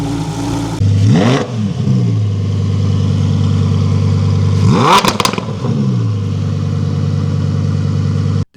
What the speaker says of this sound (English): And just a little rev for comparison.